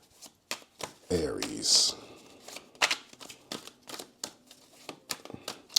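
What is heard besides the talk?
shuffling a deck of tarot cards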